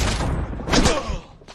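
Heavy gunfire in the video game The Order 1886: loud, rapid overlapping shots and booming impacts roll through a chaotic firefight, easing briefly before another sharp blast at the end.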